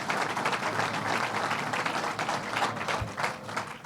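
A crowd at Belmont Park race track claps in a loud, sustained round of applause that stays dense and even throughout, with a few sharper claps standing out near the end.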